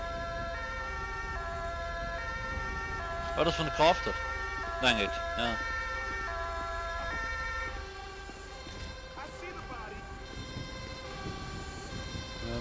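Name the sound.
emergency vehicle siren in video game GTA 5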